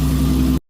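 A warmed-up Ford Ranger engine idles with a steady low rumble, loud and close, then cuts off abruptly into silence.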